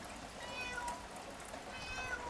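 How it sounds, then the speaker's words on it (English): A cat meows twice in quick succession, close and moderately loud, over a faint background hiss with no talking. "And that's a moaning cat."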